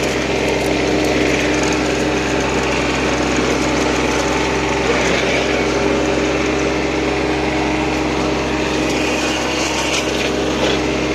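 A Chinese Mateng NEFL 95 mulcher runs continuously, a loud, steady engine and rotor drone with a high whine layered on top and no breaks.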